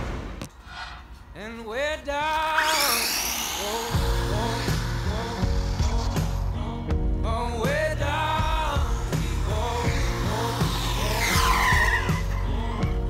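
An Absima ASB1BL remote-controlled car racing fast, its electric motor whining in repeated rising and falling sweeps as it passes near and away, with tire scrubbing and outdoor background noise.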